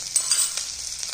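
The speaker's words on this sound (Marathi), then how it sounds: "तेल आता गरम केलेले आपण कढईमध्ये, आपण आता थोडस त्याच्यामध्ये जिरे टाकणार आहोत" Cumin seeds hiss and crackle in hot oil in a kadhai over a low flame, a brief bright close sizzle with a few small pops and no talking.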